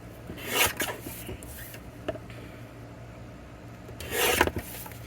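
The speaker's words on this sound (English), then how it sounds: "Let me trim this down." Card stock for a handmade Christmas card being trimmed on a paper trimmer, two raspy cutting strokes near the start and end with a few small clicks between, close and fairly quiet, no talking.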